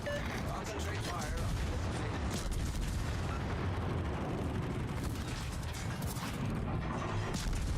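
Naval battle in a warship video game, a constant dense rumble of heavy guns firing and mechanical noise, with no clear separate blasts; voices talk underneath.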